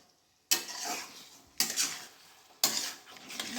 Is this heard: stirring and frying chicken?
yes